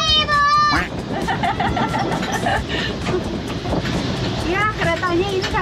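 An amusement park train ride at Jans Park Jatinangor rumbling and clattering along, with excited chatter and children's voices over the top and a few squealing whistle-like tones.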